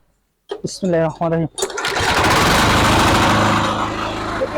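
A small mini power tiller engine being started: a voice speaks briefly, then the engine catches and settles into a loud, steady, close-up rattling run that fills the rest of the clip.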